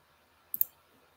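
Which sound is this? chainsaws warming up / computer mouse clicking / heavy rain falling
computer mouse clicking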